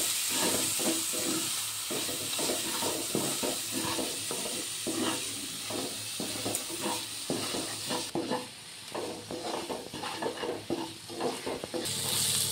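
Cumin, coriander, turmeric and chilli paste frying in oil for a Bengali prawn curry, with a constant close sizzle broken by repeated scraping stirs of a spoon against the pan.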